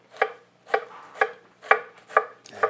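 A knife finely chopping a small red onion on a board, six crisp, evenly spaced cuts close up with quiet gaps between them and no voices.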